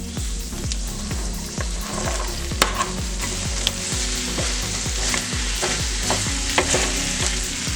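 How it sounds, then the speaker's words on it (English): Chopped okra fries in a pan for a Mexican-style stew, giving a steady close sizzle broken by a rhythmic series of scraping stirs and a few sharp clinks of utensil against pan. "We're gonna add the chopped okra."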